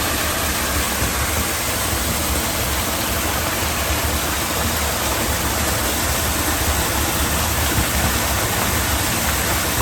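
Vanhook Falls in Daniel Boone National Forest pours steadily as a loud, close, unbroken broadband roar of rushing water with no pauses or voices.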